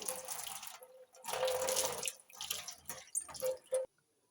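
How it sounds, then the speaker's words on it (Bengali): Tap water runs and splashes into a sink as hands are washed, coming in a few uneven gushes broken by short pauses before it cuts off abruptly near the end. "তো আমি হাতটা এখন ধুয়ে নেব"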